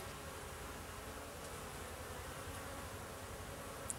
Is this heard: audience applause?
no